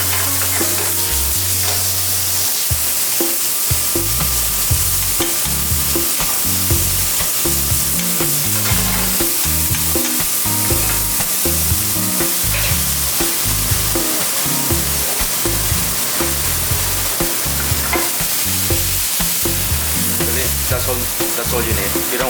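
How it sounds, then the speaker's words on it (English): Bison arancini filling gets a quick sauté in a hot pan at an alpine ski resort kitchen, a loud continuous sizzle and hiss with stirring scrapes, set against a rhythmic music track. "Just a quick saute like that."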